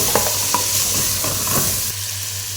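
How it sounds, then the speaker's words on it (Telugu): Chicken is added to a pan of browned onions for an Arabic-style chicken and vegetable curry, sizzling loudly and steadily up close while it is stirred with a few scraping clinks. "ఇప్పుడు చికెన్ అయితే వేసేసుకోవాలండి"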